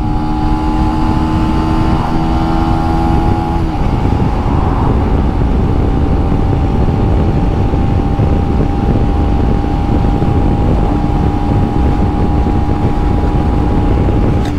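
A Benelli BN 125cc motorcycle accelerates hard toward 60 mph, its loud, close engine drone steadily rising in pitch with a gear change early on, then holding a strained high note amid heavy wind rush.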